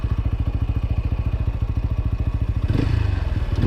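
A motorcycle engine idles close by with a rapid, even thumping pulse during a wheelie practice session, then revs up briefly toward the end.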